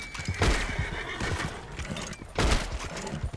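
A horse whinnies loudly in a Wild West gunfight in the video game Red Dead Redemption Online, with hoof clatter and two sharp bangs, one near the start and one later.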